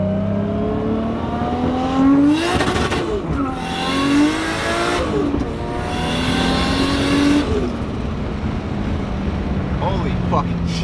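A Nissan S15 with a 400hp RB25 engine and screamer pipe is driven hard from inside the car. The engine revs up and drops repeatedly through gear changes, loud and close, with a raspy exhaust roar throughout.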